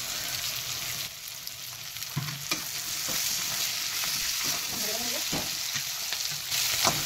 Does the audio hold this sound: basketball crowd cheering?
no